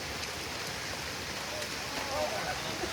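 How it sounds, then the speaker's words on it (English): Heavy rain falls during a hike, a steady broadband hiss at moderate level throughout, with a faint voice murmuring underneath. "It's raining pretty hard now."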